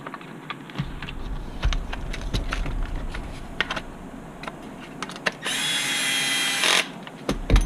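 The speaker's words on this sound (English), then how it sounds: "Now just run your screws in." Screws are driven in with a power driver while building an HB Racing D817V2 RC car, with scattered small clicks and taps, then a steady whirring burst of about a second and a half near the end.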